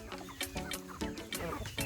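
Free-range chickens cluck in bursts close by, several hens calling over one another in a steady, busy rhythm with no talk.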